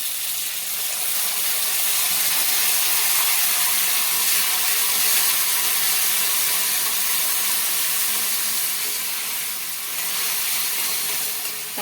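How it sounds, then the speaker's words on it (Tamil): Tomato paste hitting frying onions in a pan for a mushroom gravy, giving a loud, steady, broad sizzle and hiss that runs unbroken throughout. "இப்போ நம்ம ஒரு தக்காளி அரைச்சி வச்ச பேஸ்ட்டை வந்து சேர்த்துக்கலாம்"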